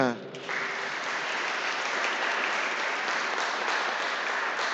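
A church congregation at Sunday Mass at St Martin d'Esquermes breaks into steady, dense applause lasting several seconds, filling the space right after a brief voice at the start.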